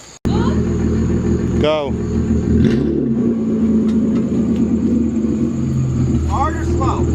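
A BMW M3 with a crushed frame backs up slowly, its engine a steady low rumble with a brief rev, while people talk over it close by.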